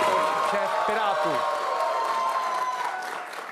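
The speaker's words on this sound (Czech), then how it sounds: "Takový bouřlivý aplaus, to bylo pro předsedu KDU-ČSL." A studio audience at a Czech political talk show breaks into stormy applause for a party leader. Dense clapping fills the room while a voice speaks briefly at the start, then the applause fades toward the end.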